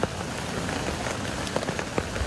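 Heavy rain pours steadily during a flood-producing storm, a dense, loud, even patter with scattered sharper drops and no voices.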